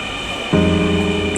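A northbound metro train rolls into Mirpur 10 station with a sudden rise of steady low rumble and electric hum, loud and continuous once it arrives.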